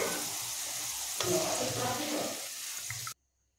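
Potatoes fry in hot oil in a kadai and are lifted out with a strainer, giving a close, steady sizzle with soft scraping that stops abruptly.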